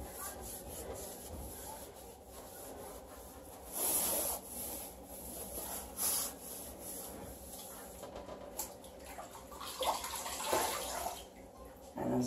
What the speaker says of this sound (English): look at how nicely that stuff just wipes up